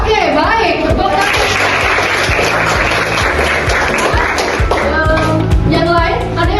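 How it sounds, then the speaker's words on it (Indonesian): Students in a classroom clap together in a dense, steady round of applause that fills the whole stretch, with children's voices mixed in underneath. "Tepuk tangan."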